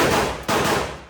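Gunfire at a shooting range, heard as two loud, close, sharp reports about half a second apart, each trailing into a long rumbling decay with no talking.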